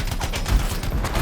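Dense, rapid bursts of automated turret gunfire in the video game Anthem, loud and close, firing continuously for a little over a second.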